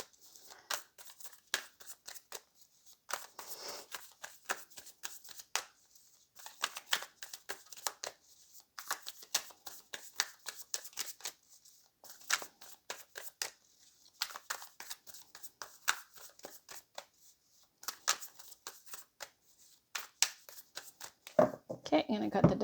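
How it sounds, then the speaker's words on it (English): Tarot cards are shuffled again and again in quick riffling bursts with short gaps between them, close and crisp, ending with a deck being cut and a brief louder rustle near the end. "I'm going to cut the deck."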